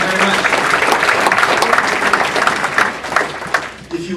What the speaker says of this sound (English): let's give them a round of applause for the work in advance that they're doing here